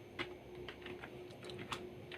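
Quiet computer keyboard keys tapped in short, irregular bursts as Arduino code is typed, soft and close with no voice.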